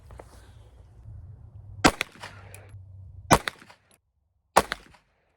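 Three sharp 9mm pistol shots from a SIG P320 ring out at about two-second intervals, each a loud close crack with a short echo trailing off, over a low rumbling background hum.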